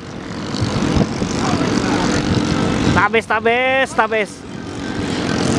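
A 3-meter speed racing boat engine at full throttle during a qualifying race, a loud sustained engine roar with excited talk over it in the middle.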